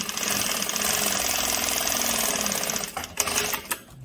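A Juki DDL-7000A industrial sewing machine stitching through two layers of fabric, a steady rapid mechanical rattle for about three seconds, then slowing and stopping with a few clunks, close and loud with no speech.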